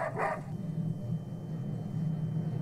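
A dog barks in a short burst right at the start during a scene from The Last of Us TV series, then a low, steady background hum continues alone.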